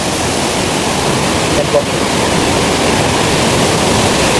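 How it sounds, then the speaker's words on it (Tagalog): A waterfall in Negros Oriental gives off a loud, steady rush of strong water, a close and constant roar filling the whole clip, with a brief spoken word barely heard above it. "malakas talaga ang tubig dito guys"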